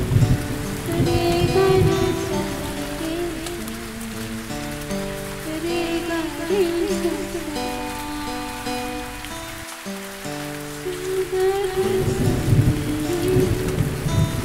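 Heavy rain pours in a loud, continuous wash with low thunder rumbling underneath, while sustained music plays over the storm.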